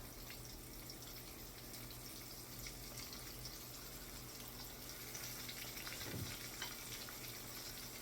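Battered fish pieces in seasoned batter frying in hot oil: a steady, soft hiss and crackle of bubbling oil, continuous and fairly faint, with a brief low clunk near the end.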